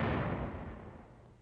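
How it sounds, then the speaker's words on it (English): A 105mm howitzer fires through the opening of a field tent in a snowy winter front-line position, giving one loud blast whose rumbling roar fades away across the short clip, with no talking. "The gun fires through the tent opening."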